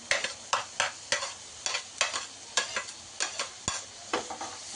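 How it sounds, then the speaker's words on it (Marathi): Onion and mixed vegetables sauté in a pan for egg rice, with a spatula scraping and stirring in quick rhythmic strokes over a soft, continuous sizzle, each stroke sharp and close. "सो आता याला एकदम सॉटे करायचं, एकदम नीट."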